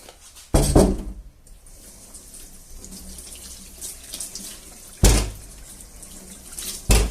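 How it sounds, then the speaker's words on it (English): Peeled potatoes are washed under a running kitchen tap, a close, steady stream of water splashing in the sink with two louder gushes where the flow hits harder, and no talking. "once the potatoes are peeled, I'll give them a quick wash"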